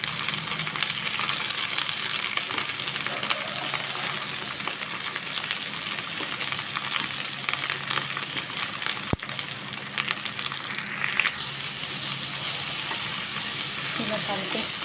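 Moringa leaves (munagaku) frying in a pan, a steady broadband sizzle running the whole time with faint stirring scrapes, close and fairly loud.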